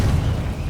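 A Confringo blasting spell going off in Hogwarts Legacy, a short, loud, deep boom with a rumbling tail, heard alone.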